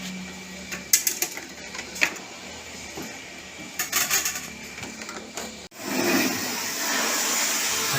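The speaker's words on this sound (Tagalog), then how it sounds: "Pinaliliguan nyo na po ang mga alaga namin mga aircon gamit po ang pressure washer" Disassembled air conditioner parts are cleaned with a pressure washer. Scattered clicks and clatter come first, then a loud, steady hissing spray takes over and holds to the end.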